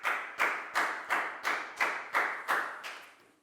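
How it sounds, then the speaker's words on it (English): Schoolchildren in a classroom clap for a classmate in eight evenly spaced, unison claps, fairly close, with the last few fading off. "Big round of applause for Nadia"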